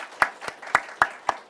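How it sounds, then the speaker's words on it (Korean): Members of a church congregation clap during a Sunday worship service, a few sharp distinct claps spaced about a quarter second apart in a slow rhythm, close and moderately loud. "박수 한번 하겠습니다."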